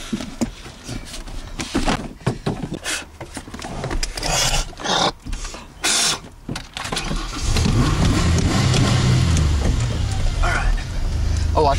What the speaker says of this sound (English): gotta do the revving